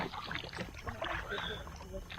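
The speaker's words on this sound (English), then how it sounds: "So we are paddling back." Kayak paddles stroke through water as a group heads back at dusk, soft splashes and wind noise close to the mic, with people talking over it.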